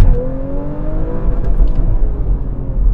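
An Audi RS4 family wagon's engine revs hard, its pitch climbing steadily toward the limiter, then holding a loud, dense roar close by with no talking.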